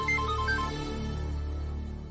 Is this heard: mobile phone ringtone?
yes